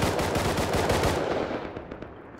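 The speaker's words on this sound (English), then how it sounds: "Did you like how fast I could fire?" Rapid automatic gunfire in the survival game Rust comes as one fast, continuous volley of close, loud shots, then cuts off and leaves a brief fading tail.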